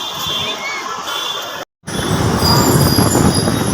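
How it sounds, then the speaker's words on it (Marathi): A Mumbai local train runs fast, a loud, close roaring rumble of wheels and carriages that cuts out briefly partway through, then returns even louder. "ही ट्रेन रे कितल्या जोरात चालली रे बाप्पा"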